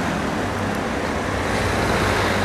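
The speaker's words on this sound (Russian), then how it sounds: "Машины едут." Steady road traffic with cars rolling past on a street in Spain, a continuous broadband rumble and hiss with no distinct single pass, fairly loud and even throughout, no talking.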